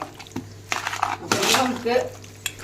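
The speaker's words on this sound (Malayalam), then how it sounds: "നമുക്ക് എല്ലാം കൂട്ടിയും മിക്സ് ചെയ്ത് കുറച്ച് നേരം വയ്ക്കണം." A spoon clanks and scrapes against a metal pot while biryani ingredients are stirred together, with a few sharp knocks and rattles, close and fairly loud.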